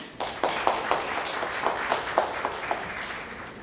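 An audience at a Korean startup investment seminar applauds to welcome a speaker, with steady, moderate clapping from a mid-sized crowd in a hall.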